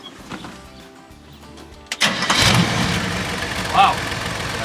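A 1972 GMC truck's engine cranks and catches about halfway through, then settles into a loud, close, rumbling idle with a brief rise in revs, after a quiet stretch of shop noise and voices.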